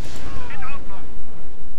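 Rapid gunfire from units attacking a bunker in the Command and Conquer Remastered strategy game, a loud close burst of shots over rumbling low noise, brief and dense, with a voice speaking over it.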